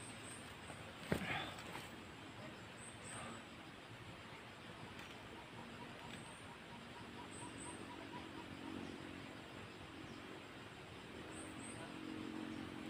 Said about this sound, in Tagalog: Ayan, narinig, no? May motor sa ibaba.